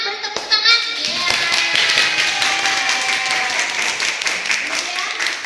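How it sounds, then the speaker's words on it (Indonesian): A classroom audience claps together in a loud, dense, steady burst of applause lasting several seconds after a lesson question is answered correctly. "Tepuk tangan, beri tepuk tangan"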